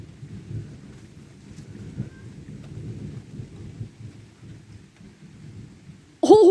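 Low rolling thunder rumbles steadily through a thunderstorm with rain, staying fairly quiet before a sudden loud burst breaks in at the very end.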